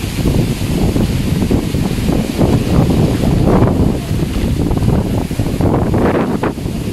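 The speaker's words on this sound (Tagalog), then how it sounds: "Sobrang lakas po ng hangin." Strong wind from Typhoon Ulysses in Urdaneta, Pangasinan, roars and buffets without a break, gusting louder at moments with a rough, blustery texture close to the microphone.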